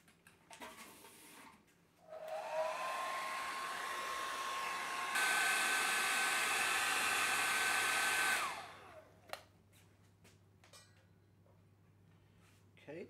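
Hair dryer blowing on a watercolour painting to speed-dry it, a steady loud whir switched on for about six seconds, shifting to a higher setting partway, then cut off, with quiet room sounds either side.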